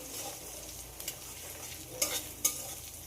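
A cracked egg frying in a pan with onion and garlic, a soft, quiet sizzle with a few sharp spatula clicks and scrapes toward the end; no talking.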